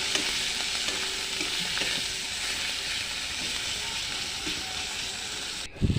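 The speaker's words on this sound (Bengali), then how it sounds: "এবারে একটুখানি এটা লাল লাল মতো করে কষিয়ে নিতে হবে।" Spices and chilli powder sizzle and crackle steadily in hot oil for a loté fish curry, with occasional scraping stirs, close and continuous, ending in a brief clatter.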